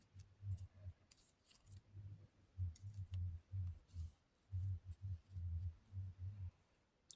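Scissors snip through craft material up close in quick rhythmic bursts of clicking cuts, repeated many times with short pauses, quiet and with no talking.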